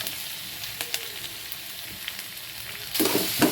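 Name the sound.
carrots and onions stir-frying in pan for poha pulao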